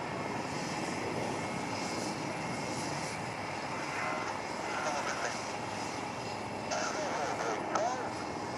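A military jet roars steadily overhead during the Aero India 2021 flying display, a broad, moderately distant rumble that swells slightly near the end, with an announcer speaking over it.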